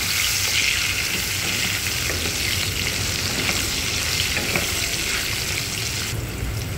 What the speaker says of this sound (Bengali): হলুদ গুঁড়ো দিলাম, লবণ দিলাম, দিয়ে ভেজে নেব।